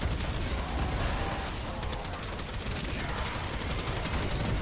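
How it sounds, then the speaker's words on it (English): A machine shotgun in the video game Warframe firing in a dense, rapid, unbroken volley of loud blasts that lasts throughout, with the shots blurring together at a very fast rate. "I have a fucking machine shotgun now. It goes way too fast."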